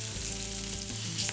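Peppercorn-crusted steak searing in a hot pan for Steak au Poivre, a loud, dense, continuous sizzle right up close with a faint low hum beneath, unbroken and without speech.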